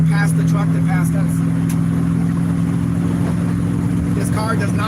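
A 1969 Dodge Dart GTS engine drones loud and steady with a strong low hum while passing a truck on a road through agave fields in Jalisco, with occasional speech-like bursts over it.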